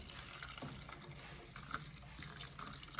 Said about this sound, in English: we need to pour 2 1/4 cup of water inside